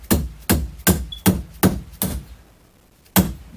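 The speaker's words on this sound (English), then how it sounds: "And this is a dead blow hammer." Six heavy, dull thuds from a dead blow hammer bending metal held in a vise, at a steady pace, close by, then a pause before one final strike.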